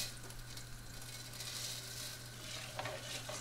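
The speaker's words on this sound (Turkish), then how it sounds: "Tereyağı ve zeytinyağında arpa şehriyeleri rengi dönene kadar kavurduktan sonra iyice yıkanmış pirinçleri de ekledim" Vermicelli and washed rice sauté in butter and olive oil, a steady, dense sizzle that stays close and fairly loud throughout, with a low hum underneath and a couple of light stirring scrapes near the end, no talking.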